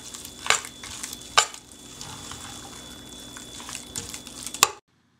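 Vegan kale pasta sauce gets stirred in a pot, a low wet churning broken by a few sharp spoon clanks against the metal before it stops abruptly.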